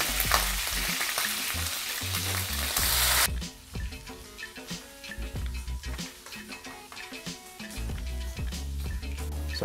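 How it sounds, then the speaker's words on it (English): Meat frying in a pot while preparing Ghana jollof, steady crackling sizzle with occasional stirring clatter, close and continuous, no one talking. "the meat is frying"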